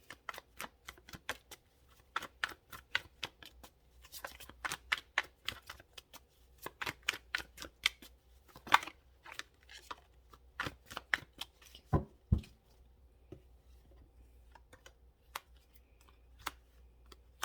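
Tarot cards being shuffled and drawn, a close, quiet run of crisp card flicks and snaps in irregular bursts, with a few soft taps between.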